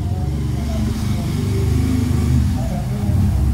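A motorcycle engine rumbles nearby, a steady low revving drone that holds for a few seconds beneath ongoing speech.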